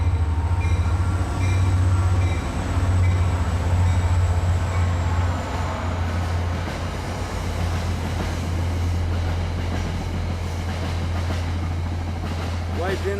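A train rumbles past with a steady low drone and rattling wagons, loud and close, with a high squeal fading early on.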